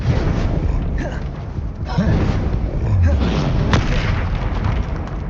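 A Confringo blasting spell goes off in Hogwarts Legacy as a loud, booming explosion with rumbling low bursts and sharper cracks over busy game sound, and a voice is faintly present.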